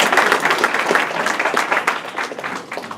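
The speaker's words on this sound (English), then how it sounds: "Give him a round of applause and I'll tell you why." A room of listeners at a keynote talk gives a round of applause for the speaker's son seated at the back, with brisk, moderately loud clapping that thins slightly toward the end.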